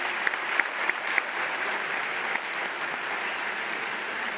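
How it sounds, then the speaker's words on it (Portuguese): An audience at a high-technology innovation award ceremony in Portugal gives sustained applause, a steady wash of clapping with a few sharper individual claps standing out near the start, moderately distant. "Um forte aplauso."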